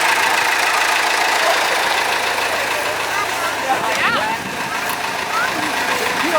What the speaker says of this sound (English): So now it's our turn to go on the tractor ride.